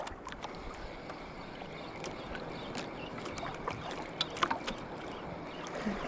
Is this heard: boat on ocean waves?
yes